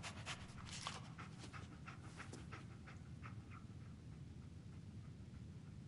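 A dog pants quickly and steadily in the video game Fallout 4, soft rhythmic breaths close by, fading slightly toward the end, with no talking.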